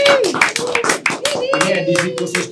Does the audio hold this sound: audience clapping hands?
yes